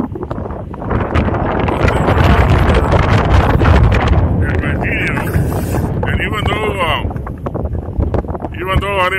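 Strong wind blows outdoors straight into a camera microphone with no windscreen, making a loud, rumbling buffeting roar that lasts the whole stretch, while a person talks through the gusts.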